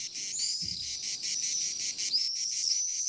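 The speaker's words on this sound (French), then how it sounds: "par un beau soir de mai, tout animé de crissements de cigales et de vols d'hirondelles" Cicadas shrill on a hillside on a May evening, a continuous high, pulsing buzz that is fairly loud and steady, with no talking.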